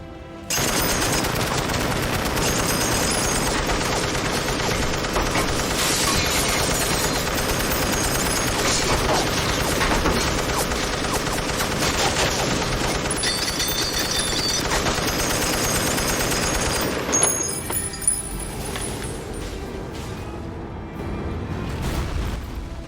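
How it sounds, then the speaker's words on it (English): In the Elden Ring video game, a Marionette Ashes summon fires like a machine gun turret, with dense rapid gunfire and booms running continuously and loud for about seventeen seconds before easing into a quieter rattle. "I relied on another summon, the Marionette Ashes, since they're the closest thing Elden Ring has to a remote-controlled machine gun turret"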